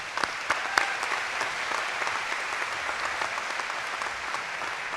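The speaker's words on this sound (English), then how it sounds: "A round of applause for them," An audience at a university commencement ceremony applauds steadily, a dense wash of clapping with a few louder individual claps standing out near the start.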